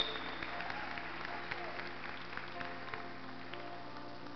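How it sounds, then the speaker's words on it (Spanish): Applause from a congregation at a Spanish-language church service, a steady wash of clapping heard at moderate distance and fairly soft, running continuously through the short stretch. "Dele más fuerte ese aplauso a Cristo"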